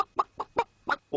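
A chicken clucks in a quick run of six short, evenly spaced bursts, loud and close, with no other sound around it.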